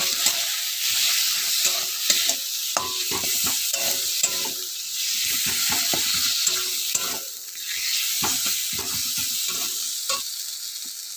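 Turmeric and chili powder fry in a pan while being stirred steadily, giving a dense close sizzle broken by repeated scraping strokes, with no voices.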